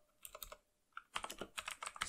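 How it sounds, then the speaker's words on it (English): Loud, close clacking of a computer keyboard under rapid typing, in two bursts split by a brief pause, with no voice. "Sorry about my keyboard, I know it's loud"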